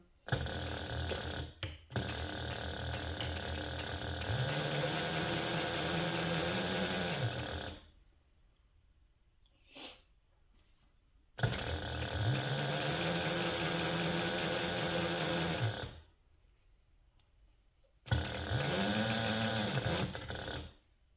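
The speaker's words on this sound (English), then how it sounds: "we're going to top stitch around both of these, also using an 1/8 inch seam allowance" Sewing machine top stitching around a handbag, running in three long close bursts of rapid mechanical whirring separated by quiet pauses, with brief slowing and speeding within each run.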